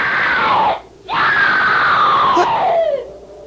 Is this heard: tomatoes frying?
no